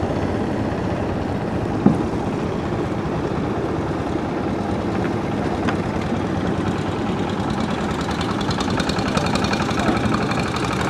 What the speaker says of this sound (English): They're very powerful engines on these boats